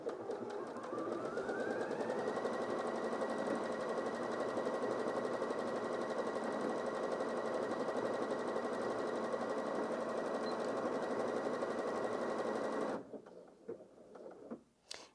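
A Janome DKS100 sewing machine stitches a decorative star pattern in a steady, close, continuous whirring chatter of rapid needle strokes for about thirteen seconds, then stops, leaving near quiet.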